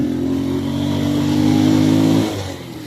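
A motorcycle engine labors uphill on a mountain road, a steady, droning hum held under load before it drops off abruptly near the end.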